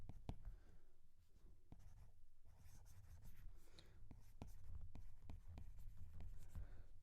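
A pen scratches across paper in quick, irregular strokes during a chemistry lesson on electrolysis, close and fairly quiet, with soft murmured speech in the background.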